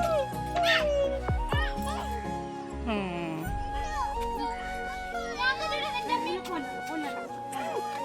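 A young child imitates a dog barking with short yapping cries, mixed with other voices talking and playful chatter nearby.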